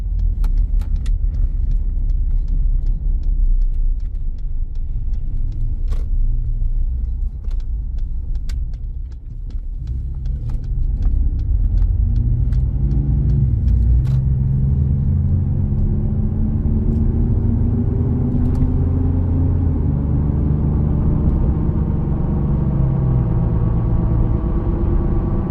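Steady low road rumble and tire noise inside a 2018 Ford F-150 Lariat build while driving, a constant heavy drone with faint interior rattles and engine tone shifting as the truck changes speed, no speech.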